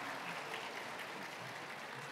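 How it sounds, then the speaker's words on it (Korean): Outdoor stage crowd at the Busan International Film Festival claps for a director and actors, a steady, fairly distant wash of applause lasting the whole moment. "오늘 부산영화제 관객분들을 찾아주신 감독님과 배우분들에게 큰 박수 부탁드립니다"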